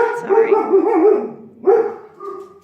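Several puppies bark in sharp bursts, some yips rising in pitch, reacting to a truck backing up outside; the barking is close and loud, with a brief pause before another volley.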